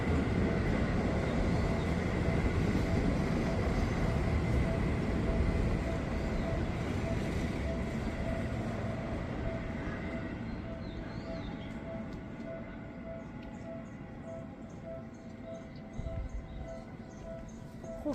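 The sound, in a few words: train passing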